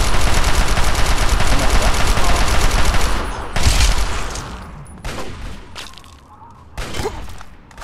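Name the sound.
gunfire from the video game Fallout 3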